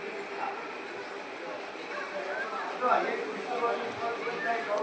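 A dog barks outdoors on farmland, its yips coming through repeatedly under ongoing conversation between people nearby.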